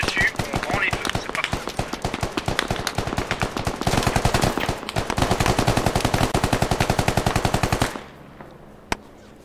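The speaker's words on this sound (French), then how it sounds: "tirs venant des bois" Sustained machine-gun fire from the woods in the shooter Squad: rapid, evenly spaced shots in long unbroken bursts at close range, loud and sharp, then a sudden stop into quiet with one last distant crack.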